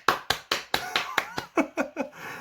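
Hands clap about ten times in a quick, steady series of sharp, close slaps, the last few softer and more spaced before a faint murmur.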